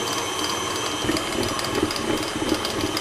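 An electric stand mixer beats whole wheat bread dough at high speed, a continuous close mechanical whir with a faint rhythmic thumping as the dough turns. It runs steadily for the whole few seconds without talk.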